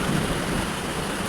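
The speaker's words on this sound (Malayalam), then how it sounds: "എന്തായാലും നല്ലൊരു മഴ" Steady rain pouring down during a sudden shower on a hot day, a dense, constant hiss with low rumbling underneath, close and fairly loud throughout with no voices.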